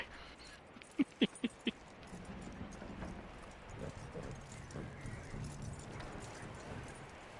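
Horse hooves clip-clop in Red Dead Redemption 2, a quick cluster of four or five distinct hoof strikes near the start, then fading into a low rumbling ambience in a cold outdoor setting.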